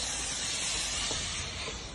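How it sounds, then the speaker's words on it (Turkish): A Polti Vaporetto Eco Pro 3.0 steam cleaner hisses continuously and loudly up close as it steams car seat upholstery, with no talking. "buharla koltukları temizliyoruz"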